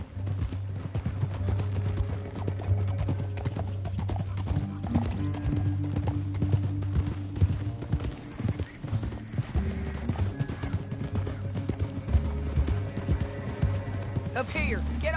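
Continuous rapid hoofbeats of horses galloping together in the video game Red Dead, with a low droning music bed and occasional voices and whinnies.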